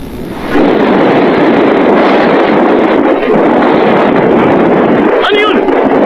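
Loud, steady wind roaring and buffeting in an anime episode dubbed in Tagalog, filling the whole stretch with a broad rushing noise after a brief quieter start.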